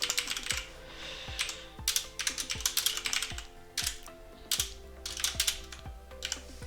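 Someone types code on a computer keyboard in quick, uneven bursts of close clicking keystrokes, with short pauses between the runs and no talk.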